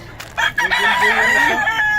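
A hen crows nearby, one loud drawn-out call that rises and then trails off, heard clearly with no talking.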